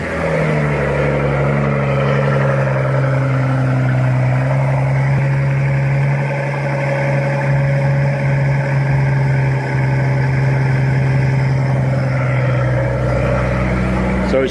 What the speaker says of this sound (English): So I'm going to show you guys a cold start now with mufflers.